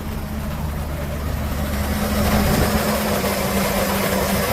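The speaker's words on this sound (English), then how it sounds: "Engine sounds really good." A 2007 Chevrolet K3500 cab-chassis flatbed truck with a 6.0-litre gas V8 idles steadily with a low, even rumble up close, the sound swelling slightly partway through, with no talking.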